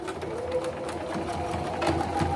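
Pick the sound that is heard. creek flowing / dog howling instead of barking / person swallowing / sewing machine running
sewing machine running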